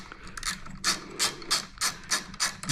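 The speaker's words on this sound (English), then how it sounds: "This is a 5/16 inch bolt here that gets loosened up." A ratchet wrench clicks in a steady back-and-forth rhythm, loosening a 5/16 inch bolt on a snowmobile battery bracket, close and fairly loud, with about six strong strokes after a few lighter ones.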